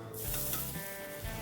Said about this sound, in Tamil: ஒரு முறுக்கா போட்டு பொரிச்சு எடுத்துட வேண்டியது தான்